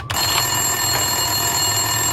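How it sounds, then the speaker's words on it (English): A telephone rings steadily in the game Max Payne 2, its bright electronic bell repeating over a low hum of background ambience, continuous and fairly loud with no voices. "Winterson's phone was ringing."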